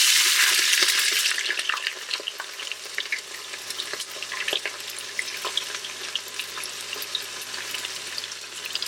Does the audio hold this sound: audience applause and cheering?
no